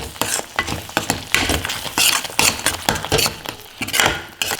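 Cumin powder and kasuri methi being stirred into a sizzling egg curry in a pan, with repeated scraping spoon strokes against metal over a steady frying hiss, close and fairly loud.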